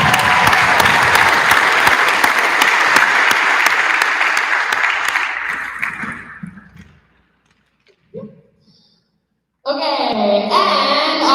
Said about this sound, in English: Can we get a round of applause for Kendall?